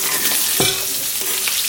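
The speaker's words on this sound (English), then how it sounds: "You want to stir your onions in for just a minute or two to let them kind of wilt down." Onions are stirred into cooked meat in a pot while gravy is being made, giving a soft frying sizzle broken by a couple of brief scraping strokes of the spoon.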